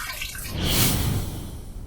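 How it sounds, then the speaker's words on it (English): Water runs over a razor as it is rinsed after a shave with Castle Forbes 1445 shaving cream, a steady close splashing flow that swells slightly midway and holds for about two seconds with no talk. "First pass done. Let's rinse."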